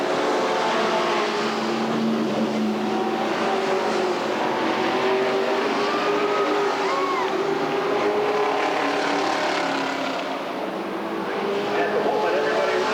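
Race cars lap an oval at Redwood Acres Raceway in 1989, engines droning continuously with rising and falling pitch as cars pass, loud and sustained, with an announcer talking over them.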